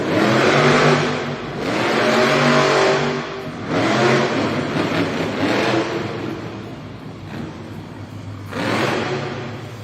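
A monster truck at a Monster Jam freestyle event in Raleigh, North Carolina roars and revs hard while pulling a wheelie, with loud surging engine bursts that rise and fall in waves close by across a noisy arena.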